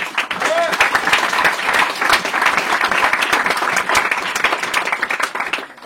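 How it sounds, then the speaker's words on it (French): An audience applauds JB at a French-language thank-you event, with dense, steady clapping filling the room for several seconds before it tapers off at the end, some voices mixed in. "on peut applaudir JB aussi"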